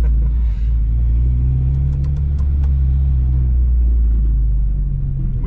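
Honda Civic Type R EP3 engine droning from inside the cabin on the Nürburgring, a loud, steady low rumble with a slight rise and fall in revs, no voices.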